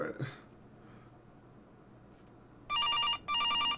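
A telephone rings in a horror video game, two loud electronic double-trill rings near the end after a quiet stretch with a brief voice at the start.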